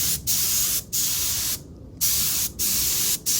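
A spray can hisses in several short bursts while a light tack coat is applied to a car's mag wheel during dent and scratch repair, with brief gaps between passes.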